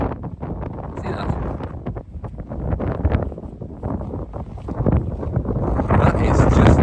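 Gusty wind buffets the microphone on an exposed loch-side hill by the Strangford standing stone, a continuous loud rumbling roar that swells and dips throughout.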